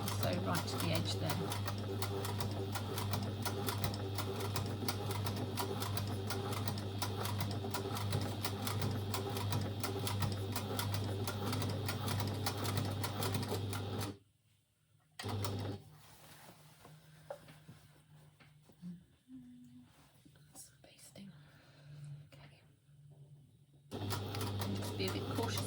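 An overlocker stitches bias binding onto the edge of a dress, its fast mechanical whirr loud and continuous. It stops for several seconds with quiet speech, then starts up again.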